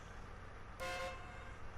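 A large truck in the SnowRunner video game gives one short, loud honk of its horn close by, lasting about a third of a second over a faint steady engine background.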